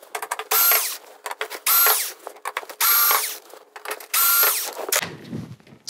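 A power screwdriver removes screws from the back panel of an LG 43UN6950ZUA television in four loud, whirring bursts of about half a second each, separated by quiet handling clicks, with a soft rustle at the end.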